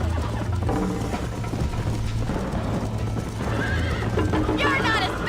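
A galloping horse neighs and whinnies in the video game Red Dead Redemption, hooves clip-clopping steadily over game music and ambience, with a voice speaking partway through.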